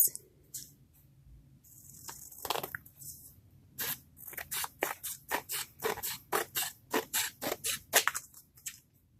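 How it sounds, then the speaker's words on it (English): Scissors snip around the edges of large paper tags in a quick run of sharp, evenly spaced cuts, close and clear, with a few scattered paper rustles before them. "We are going to just go around the edges and trim."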